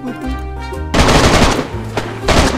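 Rapid automatic gunfire bursts loudly in the DayZ video game, starting after a short stretch of game music and continuing in dense, rattling volleys with brief gaps.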